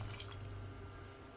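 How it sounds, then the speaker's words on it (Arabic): Water pours steadily for about a second and a half onto green beans and meat in a cooking pot, a continuous close splashing rush without pause. "بدي أسكب لتر من المي"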